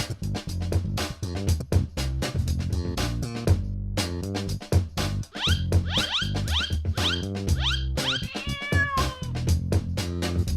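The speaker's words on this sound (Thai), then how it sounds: "แมว" Repeated cat meows set against a busy musical backing, several short cries in quick succession, some rising and falling in pitch.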